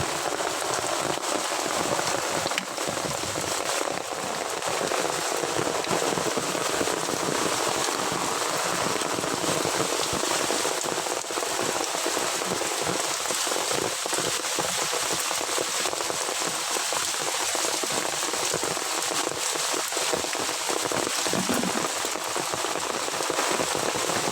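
Heavy rain pours steadily onto a surface, a dense continuous hiss of drops with occasional sharper pattering, no voices.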